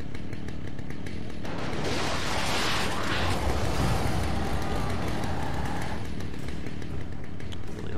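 Chainsaw revving from a chainsaw-wielding enemy in the video game Alan Wake, a loud continuous buzzing drone that swells and roughens midway, then settles back, layered over steady game ambience.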